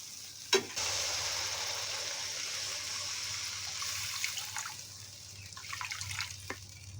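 Water is poured into frying egg curry masala cooked in oil: a loud, steady sizzle that swells after a sharp clatter near the start, with bubbling and crackling toward the end.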